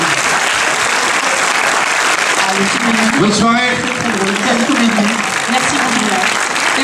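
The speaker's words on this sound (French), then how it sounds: "On peut les applaudir." Loud, close audience applause at a French film premiere screening fills the space continuously, with a short spoken farewell cutting through the middle.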